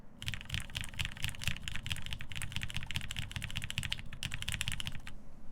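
Brisk, steady typing on a Jane V2 keyboard with an aluminum top-mount plate and PBT keycaps: dense, close keystrokes clatter continuously with a brief pause near the end and no voices.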